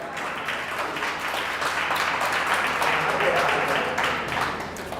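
Audience applause fills a live stage event with Hindi poetry and entertainment, sustained dense clapping that swells and holds for several seconds before tapering slightly.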